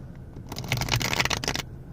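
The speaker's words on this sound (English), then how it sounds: "Let's see if we can get a good shuffle." A deck of playing cards being riffle-shuffled close by, a quick burst of fluttering, slapping card edges lasting about a second, with quiet room tone before and after and no talking.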